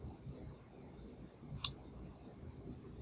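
A single faint mouse click sounds once, short and sharp, over quiet background hiss while someone navigates a web console.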